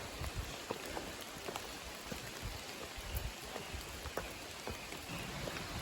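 Rain falls steadily on a surface on a trail in Connecticut, with scattered louder drops pattering irregularly over a constant wash of noise.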